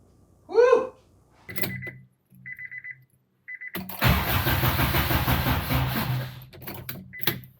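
A K-swapped car engine starts: a few short beeping chimes and cranking bursts, then the engine catches and runs loud and close. Someone makes a brief vocal sound before it fires.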